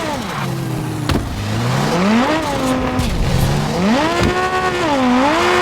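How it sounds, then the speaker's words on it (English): Car tires burning out in the video game Car Parking Multiplayer 2 during a drag race tune, a loud sustained engine whine rising and falling in pitch over a constant roaring screech, alone without talk. "So just need to burn out tires, so that's the sign that the burnout is okay."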